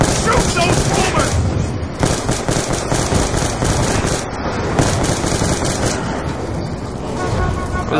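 Dense, continuous automatic gunfire and booms in Call of Duty Black Ops 2 Tranzit zombies mode, loud and relentless throughout, with players talking underneath the shooting.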